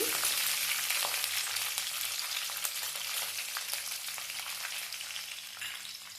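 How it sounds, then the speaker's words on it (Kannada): Green chillies frying in hot oil, a dense, continuous crackling sizzle, loud and close at first and easing slightly toward the end, with faint occasional stirring and no speech. "ಹಸಿಮೆಣಸಿಗೆಯನ್ನು ಚೆನ್ನಾಗಿ ಎಣ್ಣೆಯಲ್ಲಿ ಫ್ರೈ ಮಾಡಿ"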